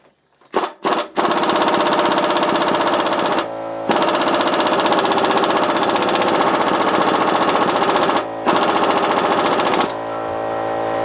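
An Ingersoll Rand 3/8 air impact wrench, fed by an AC Delco 34550 air compressor, hammers loudly on a motor mount nut in long, rapid rattling bursts, with two brief pauses between them.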